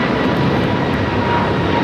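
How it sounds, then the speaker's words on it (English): An American Airlines A321neo jet takes off from LAX with a loud, continuous engine roar, close and steady throughout. "This is American Airlines 513 taking off to Philadelphia on the A321neo"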